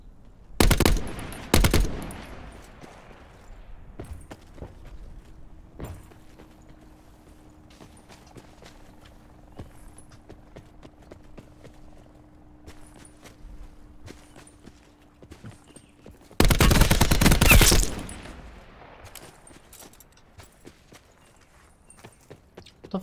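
Gunfire in a video game: two loud bursts of rapid shots near the start and another long, loud burst at about sixteen seconds, with quieter game sounds and a steady low hum between them.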